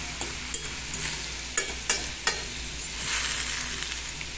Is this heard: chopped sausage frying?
yes